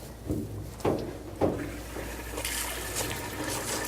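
Water splashes and trickles while a dog is rinsed after a flea shampoo, a few close sloshing bursts followed by a steady faint stream, without speech.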